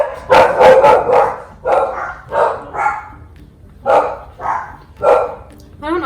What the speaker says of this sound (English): don't know why they bark at everything